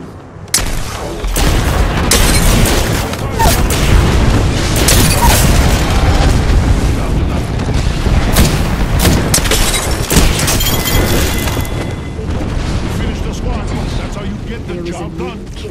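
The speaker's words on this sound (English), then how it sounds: "Signaling an airstrike." Airstrike in Apex Legends hammering the ground with a long, loud barrage of rapid booming blasts and gunfire cracks, continuous for around fifteen seconds, with voices speaking over the chaos.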